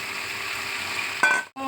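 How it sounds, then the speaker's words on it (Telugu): Onions frying in a pan with gongura added, a steady moderate sizzle with a brief clink and stir near the end. "ఆనియన్ పోయేంత వరకు ఇట్లా ఫ్రై చేసుకోవాలి"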